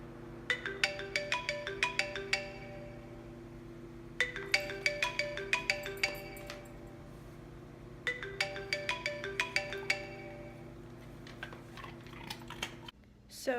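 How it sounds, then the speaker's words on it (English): A marimba-style phone ringtone plays three times in bursts of bright, rapid mallet-like notes separated by short pauses, over a steady low hum, with a brief rustle at the end. "playing the marimba ringtone as I'm doing it"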